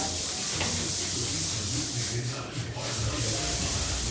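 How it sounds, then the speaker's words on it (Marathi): Steady rubbing and scouring on a gas stove in a home kitchen, worked with cleaning liquid, a continuous close abrasive swish that barely varies for the whole stretch. "आता हे लिक्विड वापरणार मी याच्यासाठी गॅस क्लीनसाठी पूर्ण घासून घेतला गॅस"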